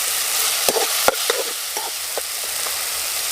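Tomato pieces and spices fry in a pan for pani puri filling, with a continuous close sizzle and a few crisp clicks from stirring.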